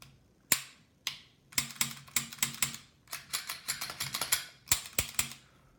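Taurus 24/7 OSS pistol being reassembled and function checked, a series of sharp metallic clicks and snaps, some isolated and some in quick clusters, close and crisp with no talk.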